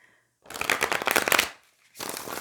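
Tarot cards are shuffled by hand in a quiet room, giving a dense, close riffling burst of about a second, a short pause, then a second brief shuffle.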